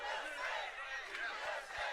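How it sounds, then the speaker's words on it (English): A large crowd at a rally-like gathering chants in unison, a loud, roaring mass of voices with rhythmic swells, close and dense. "I got a full USA chant."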